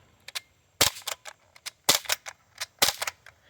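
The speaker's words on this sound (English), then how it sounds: "This gun is gas blowback. That means that this is going to reset after every single shot." An Umarex MP-5K gas blowback BB gun fires a quick run of sharp, snappy shots, each with a short mechanical clack as the slide cycles, close and clear against a quiet background.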